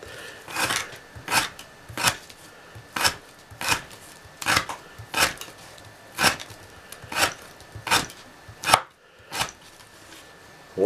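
A knife with an S110V steel blade cuts through material in about a dozen steady, evenly spaced strokes, each a crisp close-up slicing swish.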